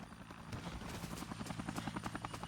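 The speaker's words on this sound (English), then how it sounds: "Oh, there's a helicopter." A video game helicopter's rotor thumps in a steady rapid pulse, growing slightly louder as it approaches, with no talking.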